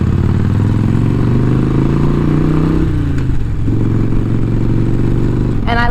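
A Harley motorcycle is ridden along a familiar road, giving a constant close, low engine rumble mixed with heavy wind noise for the whole stretch.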